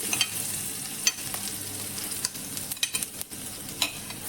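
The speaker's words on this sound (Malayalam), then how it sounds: "ഓയിൽ ചൂടാകുമ്പം ആദ്യം വെളുത്തുള്ളി" Garlic fries in hot oil as the first step of a healthy ragi soup, a moderate sizzle broken by repeated scraping and stirring knocks, with no one talking.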